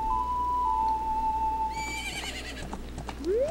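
Epona, the horse in the Zelda game Majora's Mask, gives a synthesized whinny, with rising and falling tonal neighs and soft hoof clatter over steady game background music, no talking.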